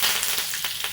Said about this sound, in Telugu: ఆయిల్ హీట్ అవ్వగానే కొంచెం ఆవాలు వేసాను.